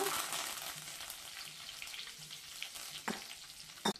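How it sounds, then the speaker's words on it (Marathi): Mustard seeds crackle in hot oil while tempering for a Sankranti mixed-vegetable bhaji, a steady close sizzle broken by a few sharp pops near the end, with no talking. "मोहरीचा तडतड आवाज आला की आपण कांदा घालूया"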